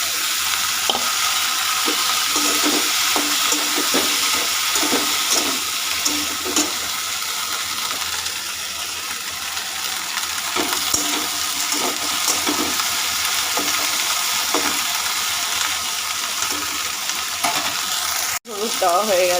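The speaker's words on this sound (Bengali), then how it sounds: "ভেন্ডির সঙ্গে সিদ্ধ হয়ে যাবে এবার ভেন্ডিটা আমি দিয়ে দিচ্ছি" Okra tipped into a pan of thinly sliced potatoes frying in oil, giving a continuous loud sizzle with repeated scraping stir strokes of a spatula throughout, ending in a sharp clatter.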